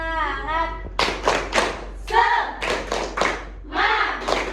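A classroom of students performs a rhythmic 'tepuk semangat' clapping chant during a microteaching practice lesson, with bursts of patterned claps alternating with loud spoken chant syllables, close and lively.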